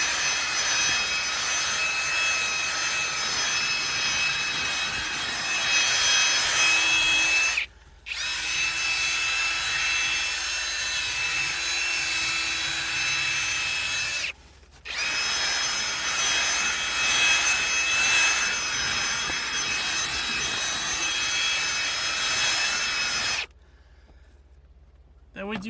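Drill-powered scrub brush working over car interior mats and seats, a loud high-pitched whirring motor in three long sustained runs separated by short stops, with a voice talking faintly alongside.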